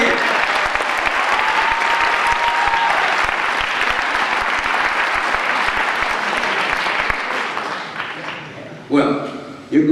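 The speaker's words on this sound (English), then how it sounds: "Let's give them a nice round of applause." An audience gives a warm round of applause for tap dance legends, steady dense clapping that fills the room for most of the clip before tapering off, followed by a brief voice.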